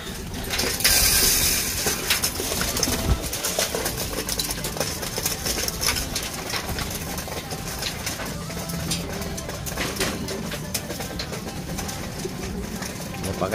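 Racing pigeons coo steadily while eating flyer-mix feed. A dense, continuous murmur of soft, low calls sits close by with scattered rustles throughout.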